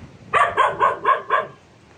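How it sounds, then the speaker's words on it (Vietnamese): A dog barks five times in quick, even succession, close and loud, at a cemetery at night, with a short quiet pause after. "chó sủa gâu gâu"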